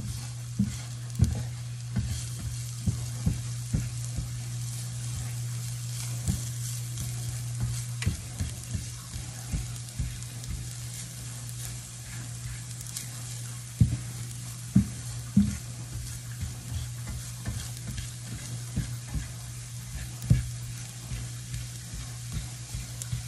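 Sausage frying in its fat in a pan for gravy, a steady close sizzle under repeated stirring scrapes and taps, with a constant low hum beneath.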